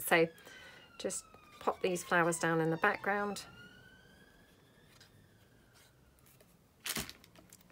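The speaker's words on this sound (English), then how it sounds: "Sorry about the siren there." A siren wails from outside, its rising and falling tone sweeping faintly in the distance under and after a person's speech.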